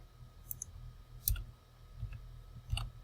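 A handful of crisp, close computer mouse clicks, spaced irregularly during a cut-and-paste edit, over a quiet room hum, no voices.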